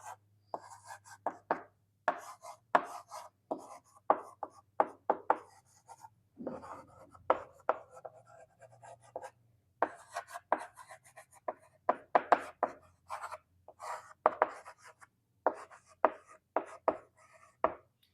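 Chalk or marker strokes during a semiconductor electronics lecture, a close series of quick scratchy taps and short scribbles in uneven bursts with brief pauses, under a faint background hum and no talking.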